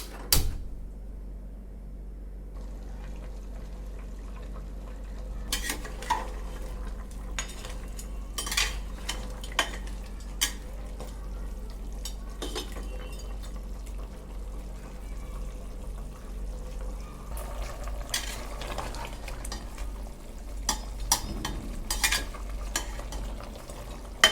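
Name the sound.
mutton cooking and stirring in an open pressure cooker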